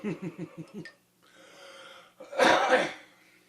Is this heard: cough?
yes